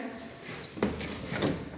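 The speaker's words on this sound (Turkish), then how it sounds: "Ora balkona çıkan kapı. Aç oranın balkonu göster." A balcony door in a house for sale is opened, giving a short knock and creak near the middle and a second scrape shortly after, with faint room noise around it.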